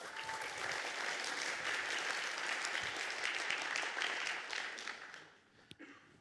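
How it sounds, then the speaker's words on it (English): An audience at a university Three Minute Thesis event claps steadily for a presenter, a sustained wash of applause lasting several seconds before tapering off into near quiet. "A round of applause for Ben Munro."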